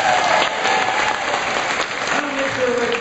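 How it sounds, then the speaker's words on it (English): A studio audience at a live radio barn dance applauds, a dense steady wash of clapping that holds loud for a few seconds, with faint crowd murmur underneath. "I want you to applaud and I want you to make lots of noise"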